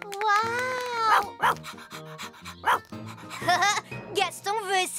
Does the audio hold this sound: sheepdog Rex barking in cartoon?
yes